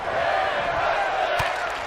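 Arena crowd in the WWE 2K22 wrestling video game roars steadily during a women's match, a dense continuous wash of cheering and noise with one brief sharp impact near the end.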